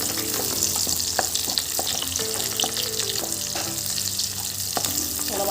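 Four pieces of new potato fry in hot oil in a pan, a steady close sizzle with occasional soft clinks and stirring taps throughout.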